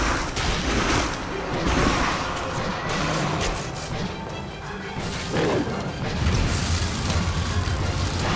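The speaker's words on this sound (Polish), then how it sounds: "Akurat wtedy strzelają." Dense, heavy gunfire rolls on almost without pause during a firefight in The Darkness II, with crashing impacts and blasts mixed in, loud and close throughout.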